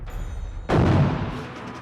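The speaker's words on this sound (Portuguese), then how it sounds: "Que explosão." Artillery fire in the war in Ukraine: a sudden loud boom strikes out of quiet background hum, then rolls and decays over about a second.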